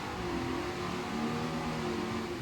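An offshore racing powerboat roars past at full throttle during the 2001 APBA Offshore Suncoast Grand Prix at Sarasota, Florida: a loud, steady engine drone holding throughout, with no voices.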